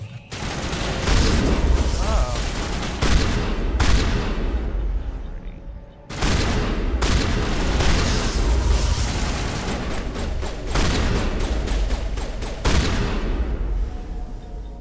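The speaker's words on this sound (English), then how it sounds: "Actually, let's switch to the shotgun." Shotgun fire in the video game Mass Effect comes as loud, repeated booming blasts through a combat scene, with one short gap before the shots resume in a dense run.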